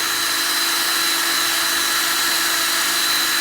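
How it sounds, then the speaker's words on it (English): A drill runs continuously at a steady, high-pitched whine with a constant motor hum for several seconds, loud and close, with no talking, as a dull bit bores through plastic. "Now I'm gonna start, get my drill bit through."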